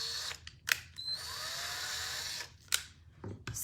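Power drill boring through a mirror moon toy resting on a cutting board, a sustained high whine of about two seconds bracketed by short clicks and bumps, up close.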